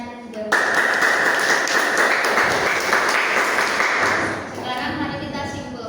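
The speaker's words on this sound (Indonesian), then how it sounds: "Kita berikan tepuk tangannya terlebih dahulu." A classroom of students breaks into loud, dense applause for classmates after a group discussion, a sustained clatter of many hands that cuts in abruptly and tapers off after a few seconds.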